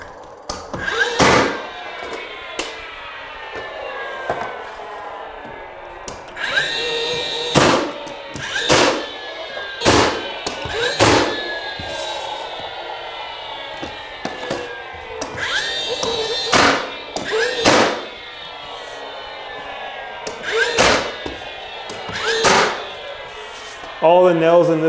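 Nail gun firing nails through wainscot trim into wall studs near the baseboard line during interior trim work, a series of sharp, loud separate bangs at irregular intervals over light background noise.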